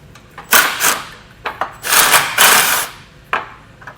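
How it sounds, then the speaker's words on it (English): Ratchet wrench work on a 10mm nut holding the horn of a 2011 Jeep Patriot: several short, close bursts of rasping clicks separated by brief pauses, with no talk. "We're just going to take out the 10mm nut located there"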